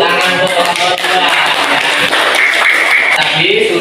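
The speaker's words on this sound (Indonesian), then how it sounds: "kita kasih aku tepuk tangan untuk kelompok 2" Classroom applause for a student group after their presentation, brisk clapping from many hands filling the room, with some voices mixed in.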